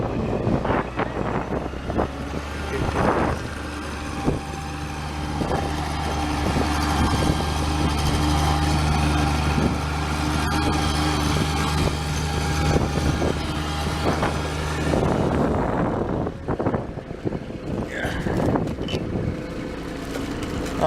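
A construction machine's engine idles in a snowstorm at a concrete walkway job, a steady low droning hum held close for a long stretch, with wind buffeting and some handling noise.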